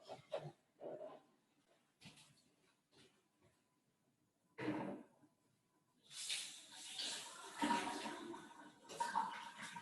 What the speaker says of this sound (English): I go and wash my hands meanwhile